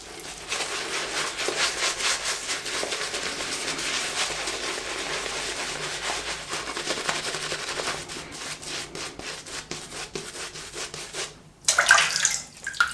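Tap water runs steadily to wet a shaving brush for lathering soap, a continuous hissing splash for most of the stretch before stopping, followed by brief handling noises.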